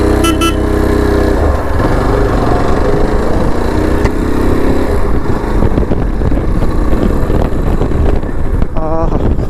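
Yezdi Adventure 2025 motorcycle pulling in third gear on the road, a steady loud engine drone mixed with strong wind noise throughout, close to the rider.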